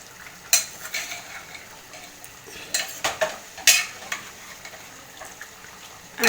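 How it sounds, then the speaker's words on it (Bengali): A thin meat curry with papaya being brought to a light simmer in a pot, heard as a soft sizzle broken by several sharp spoon clinks and scrapes against the metal. "এবারে এটা একটু হালকা শুধু ফুটিয়ে নেব"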